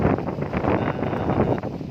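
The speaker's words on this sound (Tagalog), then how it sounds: "Ngayon mahangin kasi anong oras na eh." Steady wind buffets the microphone with a constant low rumble and gusty rush, without pause and with no voices, outdoors on a farm in the Philippines.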